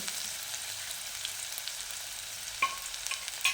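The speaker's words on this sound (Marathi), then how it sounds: "आपण पहिल्यांदा इथं तेलामध्ये अर्धा कांदा कापलेला टाकून घेतलेला आहे. कांदा थोडा परतून घेऊ." Half a chopped onion sizzling steadily in a little oil in a pot, a continuous quiet fry with a few brief clicks of a spoon stirring, no voices.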